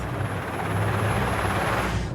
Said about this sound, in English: I can hear the blades of a helicopter